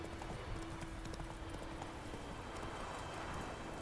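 Hooves of Roach, the horse in The Witcher game, clopping in a steady rhythmic gait over a constant ambient game background, fairly quiet and even.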